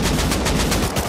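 Rapid gunfire bursts from the survival game Rust, several shots landing on another player in quick succession, loud and close with dense repeated cracks and no talk.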